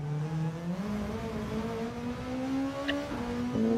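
A Volkswagen Beetle in Gran Turismo 7 revs out through the gears, a steady engine drone rising slowly in pitch before brief shift drops, moderately faint with no talk.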